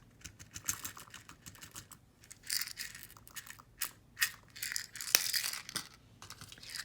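Small plastic pinch beads are handled and strung for a beaded necklace, giving scattered light clicks and rattles in short irregular bursts close to the listener, with no talking.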